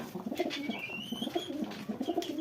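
Pet pigeons, including a black-tailed lotan-type bird, coo repeatedly in a low, throaty rhythm close by, with soft chirps and faint background noise filling the short stretch.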